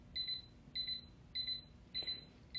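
A phone alarm chimes in four evenly spaced, bright beeping bursts, each about a third of a second long. The tone is steady and moderately faint, with a quiet room behind it and no talking.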